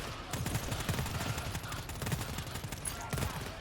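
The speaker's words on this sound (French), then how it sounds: "Ah mec, ça canarde, hein, ça canarde." Heavy gunfire fills a fight in the game GTFO, with rapid bursts of shots rattling steadily at mid distance. Someone talks over the shooting.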